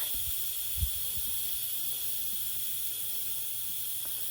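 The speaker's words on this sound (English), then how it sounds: "we're going to let the pressure off and see where we are at this point" Steam rushes out of a pressure cooker as pressure is released on a batch of pinto bean chocolate cake, a continuous even hiss held throughout with one brief low knock early on and no talking.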